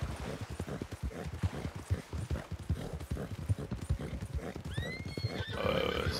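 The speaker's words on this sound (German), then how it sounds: "Was ist hier los? Noch mehr Pferde." Horses in the Red Dead Redemption 2 online game, with steady clip-clopping hooves under game ambience and a loud neigh near the end.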